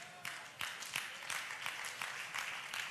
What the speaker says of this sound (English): I know the hand claps was they were sparse and kind.